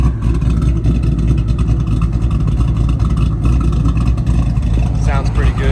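A 2005-09 Mustang GT 3V V8 with an aftermarket cam and mufflers idling nearby: a deep, loping rumble that pulses steadily and stays fairly loud throughout.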